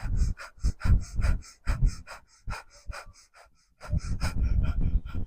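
Rapid rhythmic yogic breath of fire with navel pumping in a Kundalini yoga session: forceful, evenly paced nasal exhales, loud and close, continuing in bursts with a short pause before resuming.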